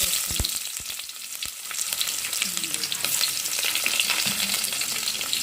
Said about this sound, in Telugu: సిమ్లో పెట్టుకొని కాయిన్స్ వేసుకొని వాటిని ఫ్రై చేసుకుంటాం